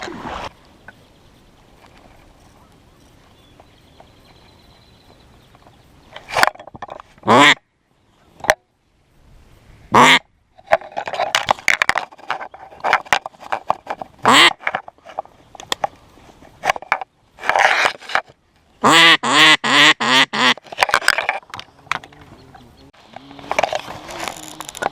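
Ducks quack during a Kansas duck hunt, with scattered bursts of loud nasal calls and honks separated by quiet gaps, growing busier and more overlapping toward the end.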